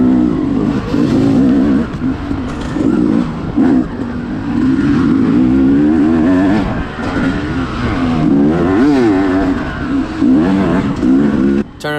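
Dirt bikes in a pro-class cross-country race at the 2019 CRXC round nine, The Bulldog, riding onto fresh, untouched trail; loud, close engines snarl and rev continuously with shifting pitch and no talking.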